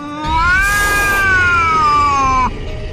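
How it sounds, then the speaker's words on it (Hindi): A cat lets out a single loud, sustained yowl that holds steady for about two seconds and then breaks off sharply, close and piercing in a drawing classroom scene. "जोरों से आवाज करती हुई बिल्ली मर जाती है।"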